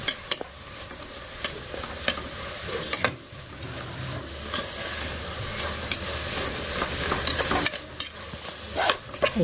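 Vegetable pulao ingredients fry in oil in a cooker with a constant close sizzle, punctuated by sharp clicks and scrapes of stirring at irregular intervals.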